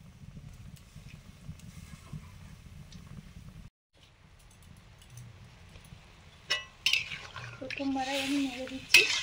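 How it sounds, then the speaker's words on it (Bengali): Small fish pieces are stirred in a pan of curry with potato and eggplant, with soft scraping and clinks of a utensil against metal, quiet at first, then louder clattering and sizzling toward the end. "প্রথমবারে আমি নেড়ে দিচ্ছি, তারপরে কড়া দিয়ে নাড়াবো।"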